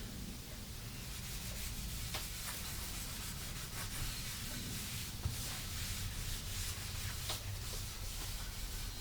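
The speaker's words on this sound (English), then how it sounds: "Just take a small amount and just start wiping it all over the body." A cloth rubs finish by hand across a guitar body, giving soft, continuous swishing strokes with faint scuffs, quiet and close, with no voices.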